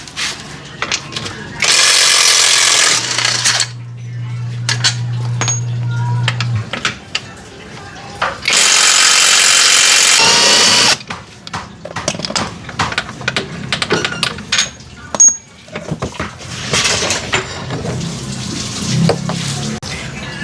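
An impact wrench with a 14mm socket removes the exhaust bolts on a Honda Click 160 scooter: two loud, harsh rattling bursts of a few seconds each, with a lower motor hum between them and quieter clinks and shop handling noises.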